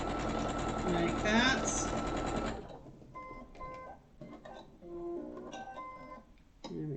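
Sewing machine stitching a bookshelf cushion: a brief, close, steady mechanical whirr lasting a couple of seconds, which stops abruptly before a person talks.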